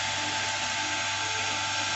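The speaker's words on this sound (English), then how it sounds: "creating a pilot hole for that drill bit." A lathe drills a pilot hole with a center drill ahead of a larger bit, giving a steady, loud machining whine and hiss that runs unbroken and close for the whole stretch, with no voices.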